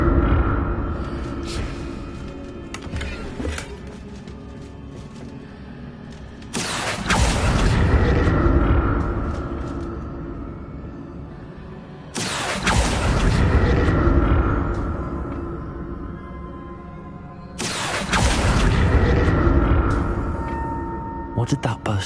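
Spell bursts in Hogwarts Legacy: three loud booming whooshes of magic, spaced roughly five seconds apart, each decaying into a rumble over a steady ambient background.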